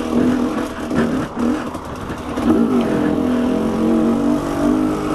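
An enduro motorcycle's engine revving close by, a loud steady rumble with surging rises and dips in pitch over a few seconds, with no talking over it.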